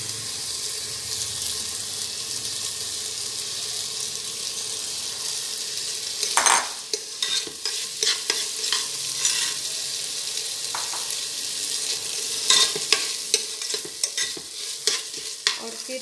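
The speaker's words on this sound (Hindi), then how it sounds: "ये चावल घी में थोड़ा भून कर ले लीजिए" Rice being fried in ghee in a pan while stirred, for sweet coconut rice: a steady close sizzle throughout, joined midway by repeated scraping and clattering stirs of the utensil against the pan.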